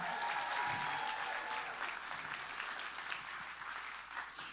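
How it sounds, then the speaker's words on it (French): An audience at a cultural show applauds a singer, with continuous moderately distant clapping that stays fairly even throughout, quieter overall. "La chanteuse amie d'Elisabeth, son nom, Adar Imen, sous vos applaudissements."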